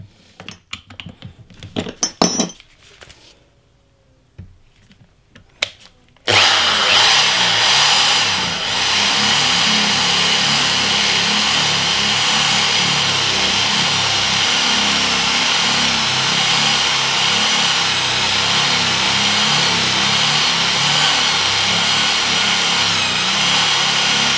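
After a few seconds of light tapping and handling noises, a loud Doliz BA670 impact drill starts and runs continuously, grinding and roaring steadily up close.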